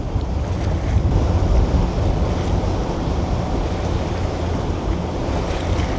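A boat sails through shallow water only about two metres deep near Staniel Cay, with a loud, continuous rush of waves and wind buffeting the microphone.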